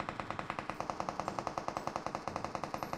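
Steady automatic gunfire rattles in a video game, a fast, even stream of close, loud shots firing about eight times per second without a break.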